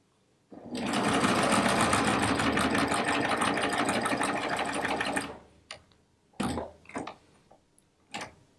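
A sewing machine chain piecing rag quilt blocks through four layers of fabric and two of batting runs in one loud, steady burst of rapid stitching for about five seconds, then stops, followed by a few short handling knocks.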